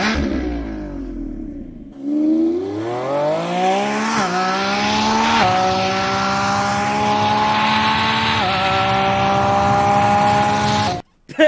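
A Lamborghini Revuelto's combustion engine in a video game revs up, its pitch climbing in steps as it shifts gears, loud and steady with no talking.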